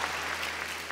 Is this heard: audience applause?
yes